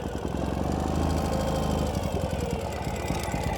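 A 2016 Ural Gear Up 2WD sidecar motorcycle engine runs steadily in mechanical reverse gear, a close, loud, lumpy mid-pitched thrum with a constant rhythmic pulse and no speech.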